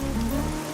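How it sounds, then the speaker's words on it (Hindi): Steady rain falls at night, a dense, even hiss of drops on surfaces with a low rumble beneath, continuous and fairly loud with no voices. "ये बारिश है कि रुकती ही नहीं है।"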